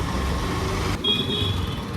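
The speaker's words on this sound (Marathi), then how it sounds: "त्यामध्ये गेल्यानंतर जे काय आवाज घुमतोय ना म्हणजे गाड्यांचा आवाज भयानक" Motorbike and road traffic noise booms and echoes under a railway bridge as a loud, continuous rumble. Partway through it thins, and a faint tonal hum or horn lingers.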